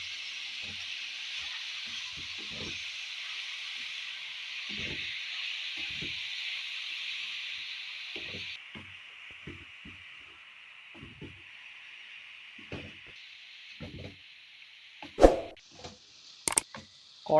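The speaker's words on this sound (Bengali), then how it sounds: "কড়াইয়ে এটা ভালো করে নাড়বেন যাতে নিচে লেগে না যায়।" Carrot halwa being stirred in a kadai over a medium flame, a steady broad hiss of cooking running throughout with soft scraping strokes, ending in a few sharper clinks.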